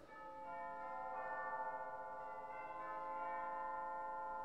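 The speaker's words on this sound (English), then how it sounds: "Set of chimes." Sustained chime stop tones from a 1954 Aeolian-Skinner pipe organ in a church ring out with bright, bell-like overtones, a steady chord swelling slightly and holding alone without any talking.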